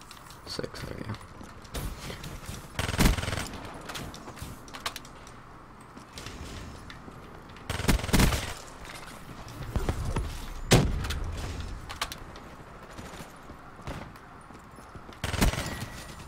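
Assault rifle gunfire in the video game Black Ops 3: short, sharp bursts of shots at irregular intervals over low game ambience.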